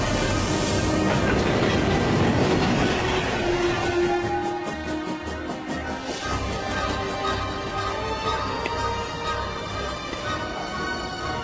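The Blue Train pulling out of Gare de Lyon, a rumbling rolling clatter with rhythmic wheel clicks that settles into a steady run, continuous and fairly loud throughout.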